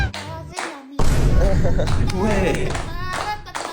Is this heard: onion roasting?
no